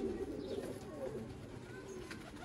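Soft, low cooing of a male pigeon repeats in gentle throaty phrases, close by, with faint ambient noise and no talking.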